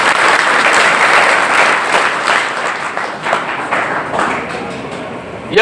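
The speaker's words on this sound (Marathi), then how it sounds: "एकदा जोरदार शिंदे साहेबांसाठी टाळ्या होते." An audience at a school farewell for SSC and HSC students at Mahatma Gandhi Vidyalaya in Khanapur claps for Shinde sahib, a dense, loud burst of applause that thins slightly toward the end.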